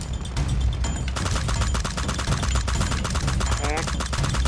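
Rapid machine-gun fire in a video game rattles out in dense, continuous bursts, loud and up front, with people talking over the shooting.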